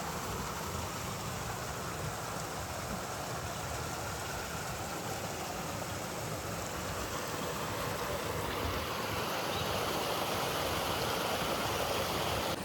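A river runs over stones in cold water, giving a steady, full rushing wash that stays loud and even throughout, with no voices over it.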